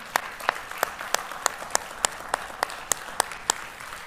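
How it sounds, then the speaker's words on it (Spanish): An audience at a church talk on Israel and the church clapping in a steady rhythm, sharp evenly spaced claps over a low crowd murmur. "Y ustedes deberían dar un aplauso por eso."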